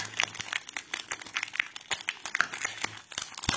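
A plastic delivery pouch being torn open and unwrapped up close, with irregular crinkling, crackling and a few sharp rips, and no talking over it.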